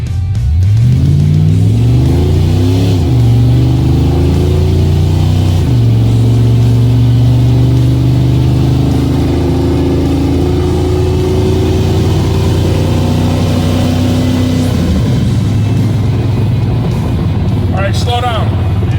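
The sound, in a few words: 1972 GMC C10 truck accelerating at half throttle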